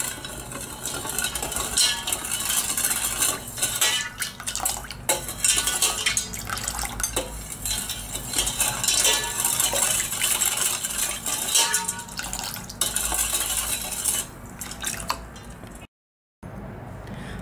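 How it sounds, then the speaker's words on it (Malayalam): Lemon water with ice being stirred briskly, a continuous close rattle and clinking of ice against the vessel with no talking, cutting out briefly near the end. "നന്നായിട്ടെല്ലാം കൂടി നന്നായിട്ട് മിക്സ് ചെയ്ത് കലക്കി കൊടുക്കുക."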